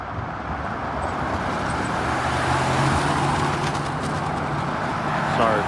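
Steady roadway traffic on a city street in the Crossroads district of Kansas City, a continuous loud rumble of passing cars and a bus-like engine drone, with faint bird calls over the top and no talk.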